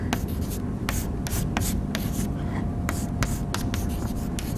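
Chalk scratching across a board during a mathematics lecture, close dense strokes and taps in quick irregular bursts over a steady background hiss.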